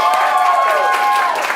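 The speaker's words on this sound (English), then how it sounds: "Clap louder for the one that you'd like to see." A theater audience at an improv show claps and cheers to vote, giving a steady dense wash of applause with voices shouting over it.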